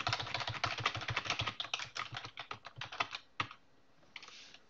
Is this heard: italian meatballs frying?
no